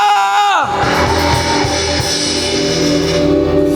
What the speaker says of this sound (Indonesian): teriakan haleluya